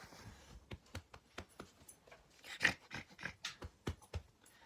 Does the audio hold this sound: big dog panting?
yes